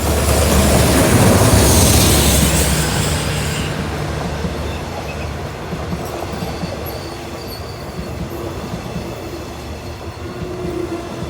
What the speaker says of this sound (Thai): เข้าโค้งสวยงามเลยทีเดียวนะครับ วันนี้ทำขบวนโดย ฮิตาชิ 4511 นะครับ